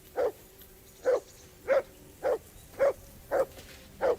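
A hound in Kingdom Come: Deliverance 2 barks seven times at a steady rhythm. Each bark is short, sharp and loud, with quiet gaps between them and no talking.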